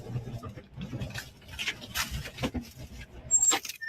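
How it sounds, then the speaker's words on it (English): Large hail pelting a vehicle during a severe storm, with irregular, sharp clattering impacts that come in uneven bursts, close and loud against the body of the car. "Giant freaking hail."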